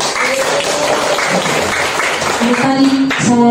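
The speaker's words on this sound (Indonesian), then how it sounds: "bolehkah saya mendapatkan tepuk tangan untuk apa yang sudah saya lakukan hari ini?" Audience applause at a school gathering, a continuous wash of clapping from many people, loud and close, with voices and tonal sounds rising toward the end.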